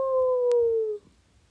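A voice imitates a red panda's loud howl, one sustained, slightly falling tone held for about a second, then cut off into quiet.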